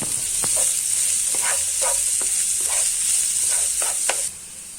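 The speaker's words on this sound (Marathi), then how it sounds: "बारीक चिरलेला कांदा घालून हे सर्व मिश्रण कांदा मऊसर होईपर्यंत शिजवून घ्यावं" Onion with ginger, garlic, coriander and chili paste frying in a pan, a loud steady sizzle with repeated spatula scrapes and taps, close up and with no talk, cutting off abruptly near the end.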